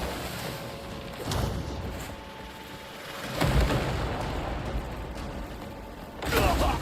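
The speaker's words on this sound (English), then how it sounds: "Those little bombs are actually effective." Small bombs go off in the Crimson Desert video game, a few muffled booms at intervals over a dense rumbling game soundscape, moderately loud.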